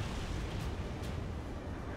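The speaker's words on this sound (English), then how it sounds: "An explosion inside." Game explosion from the combat flight game Ace Combat 7: Skies Unknown, a dense, steady roaring rumble filling the low end for two seconds with no distinct onset, with no one speaking.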